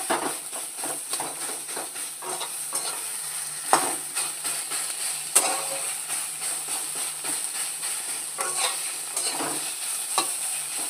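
Bottle gourd frying in ghee for a sweet gourd payesh, giving a continuous close hiss and sizzle with repeated rhythmic scraping stirs of a spatula in the pan.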